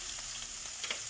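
A chicken samosa filling frying in a pan: a continuous bright sizzle with small pops and crackles, close and steady.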